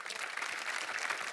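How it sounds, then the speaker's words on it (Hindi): A brief, steady burst of audience applause for Apar on a Hindi show, dense clapping at moderate volume with no break. "पहले जोरदार तालियां हो जाए अपार के लिए।"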